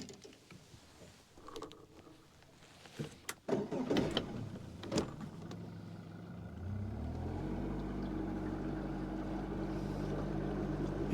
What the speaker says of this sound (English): I am gonna use the big motor to get over there.